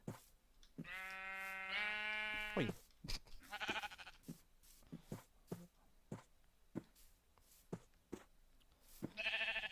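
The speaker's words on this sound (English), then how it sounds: "So I went and found myself some sheep." Sheep in the video game Minecraft Voltz bleat in wavering cries, one long call early and another near the end, amid soft footsteps, with a person briefly speaking.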